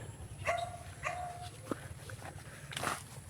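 A lively farm dog gives two short yelps in quick succession followed by a softer bark, fairly faint over a low background hum.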